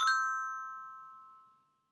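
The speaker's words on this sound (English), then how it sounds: "Turn the page when you hear the chimes ring," A single bright chime rings out alone, its clear metallic tone sustaining and slowly fading away over a couple of seconds.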